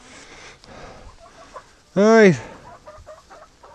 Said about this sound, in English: we got some friendly chickens